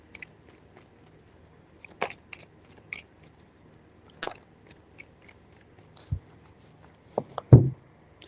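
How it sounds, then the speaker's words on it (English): Tarot cards being shuffled in three short bursts, each a crisp flurry of papery riffling and slaps separated by quiet gaps, close and fairly soft with no voices. "3 shuffles."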